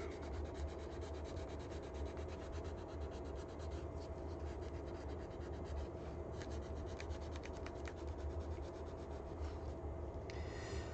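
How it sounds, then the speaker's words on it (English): Fine sandpaper rubs steadily over a 3D-printed part being prepped for molding, a continuous close scratchy rasp of back-and-forth strokes lasting throughout with no talking. "this finer sandpaper didn't do a better job getting rid of the scrapes from the thicker sandpaper"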